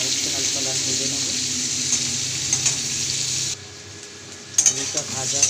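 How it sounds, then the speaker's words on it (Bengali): Potatoes fry in oil until lightly browned, producing a continuous close sizzle that dips briefly midway, then returns with a few sharper spatters and faint voice-like sounds. "আলুটা ভাজা হয়ে গেছে হালকা লাল।"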